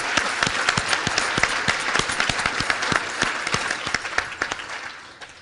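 An audience applauds the library staff at a literary conversation event, steady loud clapping with sharp individual claps standing out, close and sustained without talk before easing slightly at the end.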